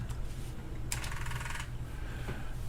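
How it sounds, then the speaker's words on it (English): An Altair 8800 floppy disk drive starts up, giving a short burst of rapid mechanical clicking and whirring over a steady low hum, with a few faint clicks before and after, quiet and close. "the floppy drive woke up and came to life"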